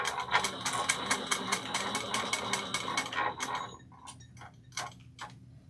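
A sewing machine stitching backpack fabric runs in rapid, evenly spaced needle taps, then slows into a few separate stitches toward the end, close and clear with no talking.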